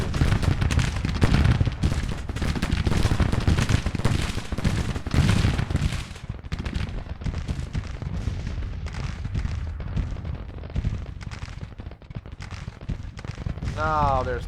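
Dense gunfire and artillery in a Civil War video game, with rapid overlapping shots and booms that are heaviest at first and then ease into scattered fire. A voice talks under the battle noise.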